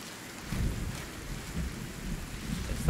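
In Sons of the Forest, a thunderstorm rolls on with dense steady rain and deep rumbling thunder swelling and fading throughout.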